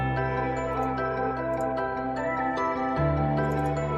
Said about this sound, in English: This library is called the Crescent Solo Cello.